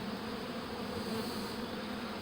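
A swarm of bees buzzing loudly and close while being hived, a continuous dense drone with a steady low hum and no voices.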